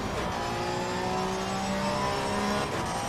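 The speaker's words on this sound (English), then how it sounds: "Car sounds weird too. It doesn't really rev out the way I expect it to." Race car engine from Assetto Corsa Competizione, British GT, droning loudly and continuously with rising and falling rev tones, no speech.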